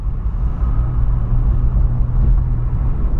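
A Volkswagen Polo driving along a village road, heard from inside as a loud, steady low engine and tyre rumble with no clear changes and no talk.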